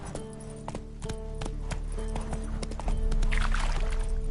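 Roach the horse gallops in a video game, a steady rapid clip-clop of hooves running throughout and growing louder toward the end, with a faint whinny-like tone and no talking.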